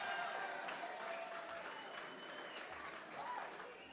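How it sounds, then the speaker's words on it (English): An audience at a hometown heroes award tribute claps and cheers steadily in a dense, continuous wash of applause, with a faint voice briefly audible beneath it. "And they're already cheering."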